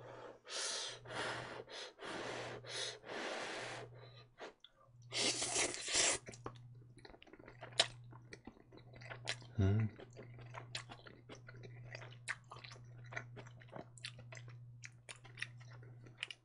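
Close, intimate chewing and slurping of homemade Korean jajangmyeon noodles, wet mouth sounds and soft breaths repeating in bursts over a steady low hum, with a few brief louder gasps.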